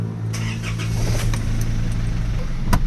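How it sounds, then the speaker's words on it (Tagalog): Isuzu D-Max with a 4HJ1 diesel engine that has a low-power fault, heard nearby as its engine cranks and catches to a rough steady rumble, with faint clicks and clatter over it and one sharp knock near the end. "Try lang muna nating pandarin ang makina at observe po tayo sa RPM nito. Engine start."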